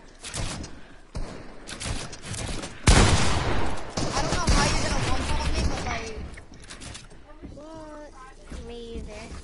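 AR rifle fire in a PvP shooter game crackles in rapid bursts of sharp, loud shots, interleaved with mechanical clatter while players talk over the action.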